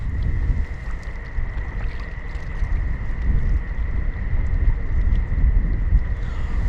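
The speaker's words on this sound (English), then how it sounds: "the old southwesterly is picked up now" Steady southwesterly wind blowing across a river mouth on the Severn Estuary during winter sea fishing, a constant low rumble of wind noise on the microphone, with no talk.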